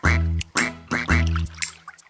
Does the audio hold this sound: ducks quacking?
yes